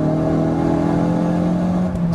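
A 520 bhp Hendy Performance HP500 Ford Focus RS, turbocharged, pulls in fourth gear from about 3,500 rpm, its engine a loud, steady, close droning note with a rich buzzing tone and no voices.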